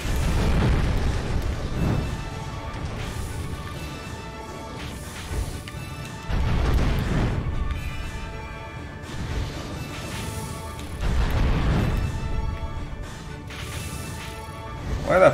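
Cannonball explosions in the video game Drakengard land as heavy, loud booms and crashes roughly every five seconds, each one swelling and then fading back under a continuous game sound bed.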